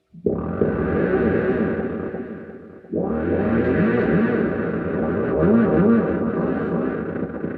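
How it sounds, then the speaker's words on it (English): A theremin run through a long delay effect set to maximum swells into a sustained, echoing drone with repeating wavering pitch sweeps that smear into one another, loud and continuous with a brief dip midway. "if I make the effect a long delay and set it all the way to maximum, it sounds like this."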